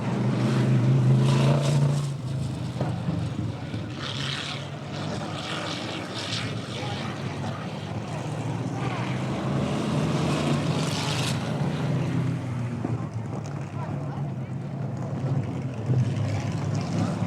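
IMCA Oldtimers vintage race cars on small tires lap a hard-packed dirt track at a 2001 exhibition at Hastings Little Log House Pioneer Village, their engines a steady, loud, droning roar that swells slightly as they pass.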